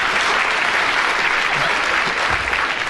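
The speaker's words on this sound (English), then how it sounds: "I don't know whether the audience are applauding because they agree or just applauding your magnificent performance, Derek." A studio audience applauds, a steady, loud wash of many hands clapping at once that holds evenly throughout, with no voices over it.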